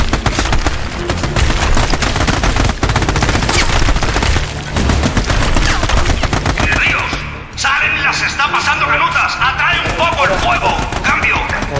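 Dense automatic gunfire from the video game Army of Two, loud and continuous bursts over a game soundtrack, with a brief dip midway before the shooting resumes, and a voice faintly present.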